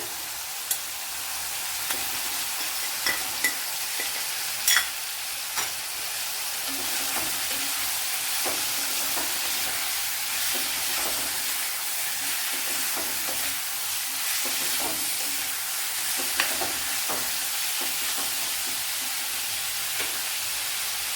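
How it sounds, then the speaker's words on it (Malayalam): Crushed ingredients sizzling and frying steadily in a hot pan while Kerala rasam is prepared, a loud, continuous hiss with faint stirring clicks throughout and no voices. "ഇനി ഇതിലേക്ക് നമ്മൾ ചതച്ചു വെച്ചിരിക്കുന്ന ഇൻഗ്രീഡിയൻസ് എല്ലാം കൂടെ ഇട്ടുകൊടുക്കാം"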